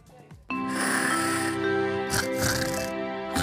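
Loud, rattling snore from a sleeping person, heard in a broadcast advert for an anti-snoring oral spray, harsh and sustained with a brief break midway.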